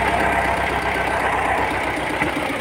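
Steady diesel idle of an LTZ-60AB tractor engine warming up, a loud, even rumble with a faint knocking rhythm running throughout, close to the listener and with no voices over it.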